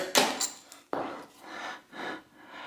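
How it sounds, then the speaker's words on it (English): A pin is knocked out of the bottom bracket of a vintage Peugeot bicycle, giving a few sharp metallic taps and knocks followed by softer scraping rubs, close and fairly quiet. "get this pin knocked out here"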